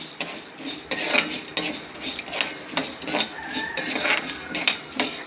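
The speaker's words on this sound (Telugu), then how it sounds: "ఆవాలు, మెంతులు, జీలకర్ర, ఇవి కూడా కొంచెం దోరగా వేసుకోవాలండి." Mustard seeds, fenugreek and cumin being dry-roasted in a pan for sambar powder, a steady scraping and stirring of a metal utensil against the pan with light rattling of seeds, close and continuous with no talk.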